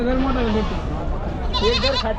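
Several Osmanabadi goats, pregnant does and does with kids, bleat loudly and close at a large goat and sheep market in Chakan, wavering cries overlapping in a noisy pen-like setting.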